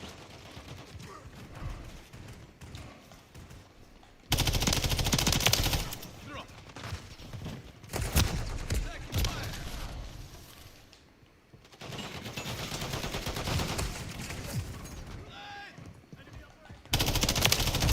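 Rapid bursts of MTZ-556 rifle fire in Call of Duty Modern Warfare III, loud and close, alternating with quieter gaps; a voice talks through parts of it.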